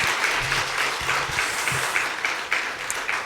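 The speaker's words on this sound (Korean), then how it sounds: "다시 한번 우리 격려의 박수 보내드리겠습니다" Congregation at a church service opening worship for a discipleship training program claps warmly for two testimony speakers, a dense, steady round of applause with a low voice murmuring faintly underneath.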